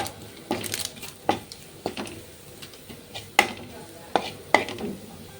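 Maggi masala being stirred into chicken Maggi noodles, a series of sharp spoon scrapes and taps against the pan at uneven intervals over a faint background hiss, no speech.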